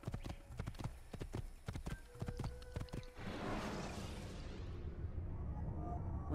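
Horse hooves clip-clop in a steady run of sharp, evenly spaced beats in the video game Assassin's Creed, loud and close before giving way to a dense wash of game noise.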